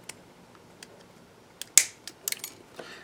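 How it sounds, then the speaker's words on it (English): Bent electronic component leads being snipped off produce a handful of sharp, crisp clicks spread irregularly over quiet background, with one louder snap in the middle. "I'm going to go ahead and just cut off the bent portion here"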